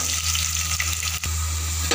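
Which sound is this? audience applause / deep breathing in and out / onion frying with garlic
onion frying with garlic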